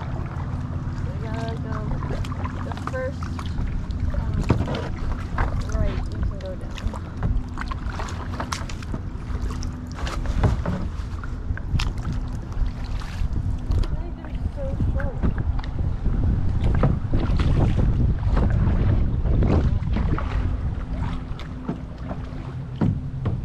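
Kayak paddling on open water with crooked paddles, steady splashing strokes and wind buffeting the microphone throughout, with people talking over it.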